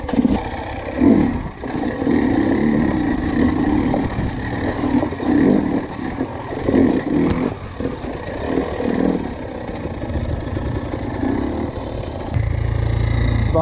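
Motocross motorcycle ridden in third gear without the clutch during a private MX and SuperEnduro training session, engine droning and revving loudly and continuously throughout, with a deeper rumble near the end.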